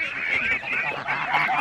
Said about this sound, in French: un petit couple d'arlequins gallois avec deux cannes cayuga